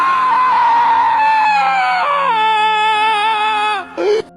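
A man screams in terror: one loud, sustained cry held for nearly four seconds, its pitch sliding slowly downward before breaking off in a short, ragged gasp at the end.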